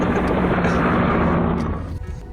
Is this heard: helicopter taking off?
yes